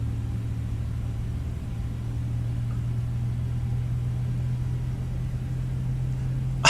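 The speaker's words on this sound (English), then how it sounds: "you can just hear the engines powering up" Air France Airbus A318 jet engine powering up in Microsoft Flight Simulator 2020, a steady low droning hum with a constant deep tone that holds evenly throughout, and a brief click at the very end.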